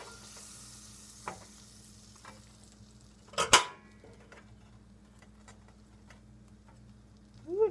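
Butter melts in a frying pan for grilled cheese, a soft continuous sizzle with a sharp scrape and clatter as the pan is lifted and swirled, then quieter sizzling over a low kitchen hum.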